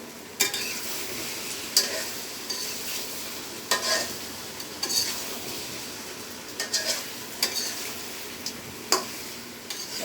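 Mango pickle with dried chilies sizzles softly in a pan over low heat while a spoon stirs it, making intermittent scraping clicks against the pot over a steady gentle fry.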